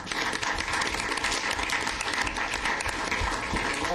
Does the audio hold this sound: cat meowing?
no